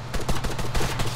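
Rapid bursts of gunfire in Arma 3, a fast run of loud, close shots in quick succession lasting about a second.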